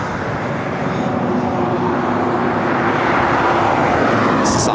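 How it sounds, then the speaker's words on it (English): An Austrian Airlines Boeing 777-200ER arriving at LAX from Vienna passes as a loud, steady jet roar that swells slightly throughout, with broadband engine rumble and hiss. "This is Austrian, that 777 at 200 ER coming in from Vienna, our next arrival."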